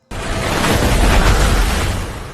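A very large explosion erupts suddenly into a loud, sustained roaring blast with a deep rumble that slowly tapers off.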